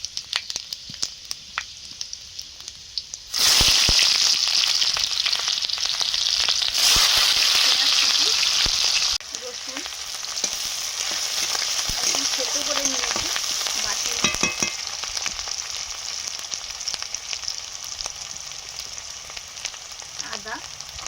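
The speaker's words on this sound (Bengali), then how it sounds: "চিতল মাছের কাঁটা মুড়োগুলো ভাজছি" Chital fish bones and head fry in hot oil, first a quieter crackle, then a loud burst of sizzling as more goes into the pan, settling to a steady close sputter with occasional stirring.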